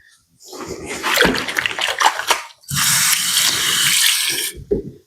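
Tap water runs steadily into a kitchen sink, a broad rushing splash heard close and loud, with a brief interruption before the flow resumes and then cuts off.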